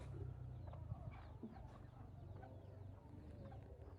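A chicken at a farmyard gate clucks in soft, broken bursts amid steady low outdoor rumble, the bird fairly close but not loud, with no talking.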